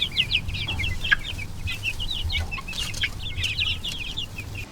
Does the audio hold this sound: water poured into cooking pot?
no